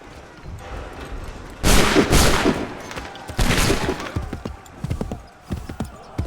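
Musket volley fire in Assassin's Creed 3, two loud close blasts of massed shots a couple of seconds apart followed by scattered crackling gunfire, with a voice in the background.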